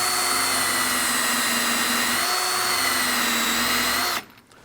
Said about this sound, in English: And drill two perfectly centered holes.